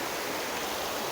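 A stream in the Black Forest rushes steadily nearby, a dense, even hiss of flowing water with no voices over it.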